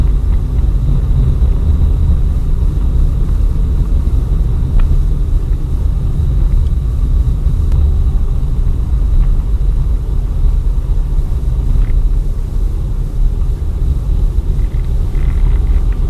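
A car drives steadily along a snowy, icy winter road, giving a constant loud low rumble of tyres and engine that holds without change throughout, with no talking.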